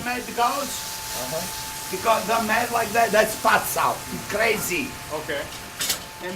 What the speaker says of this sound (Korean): 미친 듯이 지글거린다 해서 미친물이라고 불리는 이 요리는 이탈리아식 생선찜 요리다.